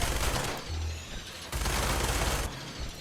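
Gunfire in a combat video game comes in two dense bursts of rapid shots separated by a short lull, loud and close, with no talking.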